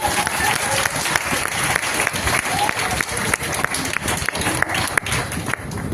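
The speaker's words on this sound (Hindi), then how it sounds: "और ताली बजाइए इनके लिए।" Dense, sustained applause from an audience at a business event, many hands clapping steadily and loudly for the whole stretch with no pause.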